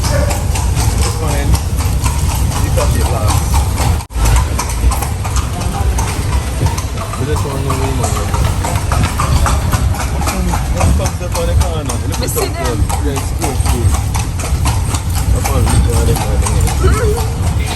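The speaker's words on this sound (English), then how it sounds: "we're on this horse carriage" Steady horse hooves clip-clopping along a street as a horse pulls a carriage in Cartagena, Colombia, under continuous talk, with engine noise from passing traffic.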